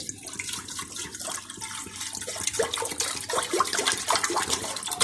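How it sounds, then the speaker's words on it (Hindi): Water being poured or run into a pot in a home kitchen, about half a litre, to boil for mutton kofta; a steady splashing, gurgling stream close by with no talk. "हाफ लीटर में पानी डालने लगी हूँ।"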